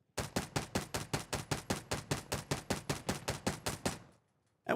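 Single-fire gunshots from a first-person shooter game ring out in a steady, even rhythm, about sixteen loud sharp shots in a row, close and alone, before stopping.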